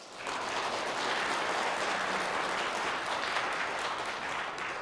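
A church congregation claps steadily for several seconds during a Sunday service, dense and even, without cheering or voices.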